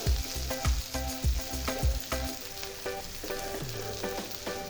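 Cubes of pangas fish frying in hot oil with a steady sizzle, joined by repeated sharp scraping and stirring knocks against the pan in the first half, then a smoother continuous fry.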